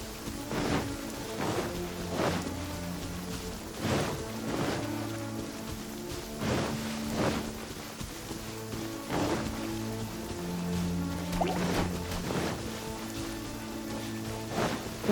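Rain falling in Genshin Impact during a Mona quest: a steady hiss of rain on surfaces with repeated splashy bursts and a low droning game backdrop, continuous and moderately loud.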